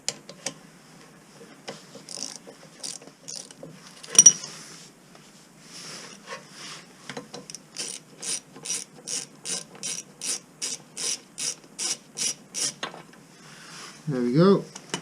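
A ratchet loosens the bolts on a handbrake cable bracket of an AWD Honda EP3 during disassembly. Scattered clicks lead into a long, even series of loud, close ratcheting strokes, ending with a brief rustle.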